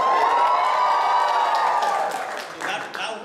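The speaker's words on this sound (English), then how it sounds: "I want you to give me the loudest scream" A crowd at a first-anniversary church service screams as loudly as possible on cue, a dense, sustained roar of many voices that fades and breaks into scattered shouts and cheers near the end.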